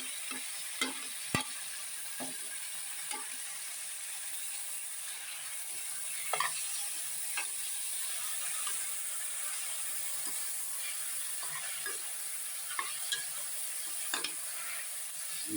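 Chopped tomatoes fry in a pan with sautéed onions, a soft continuous sizzle under intermittent scraping strokes of a spoon stirring the mixture, close and fairly quiet.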